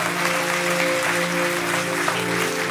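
A church congregation applauds in a sustained, even wash of clapping, heard alongside a steady tonal hum that may be music or an organ beneath it.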